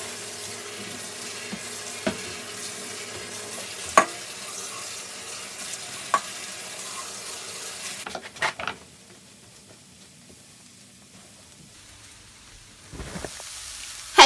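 Broccoli and other vegetables stir-fry in olive oil in a pan, a soft background sizzle broken by sharp clicks and scrapes of stirring, with the sizzle dropping away partway through before a few more clatters.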